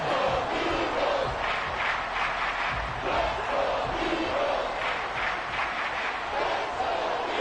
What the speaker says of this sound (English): Let's just do anything to shut this crowd up